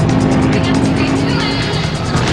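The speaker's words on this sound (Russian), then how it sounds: "Люди невольно поворачивают головы, когда она пролетает мимо" A BMW M5 E60 roars past at speed, its loud engine noise filling the whole stretch steadily and close by, with a broad rushing tone and no pause.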